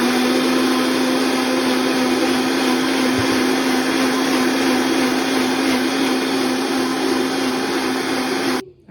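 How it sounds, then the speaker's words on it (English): A blender whirs steadily, loud and close, while blending a green mixture, holding one even motor drone for several seconds before cutting off abruptly at the end. "we're over at our blender, and we're gonna do the countdown together"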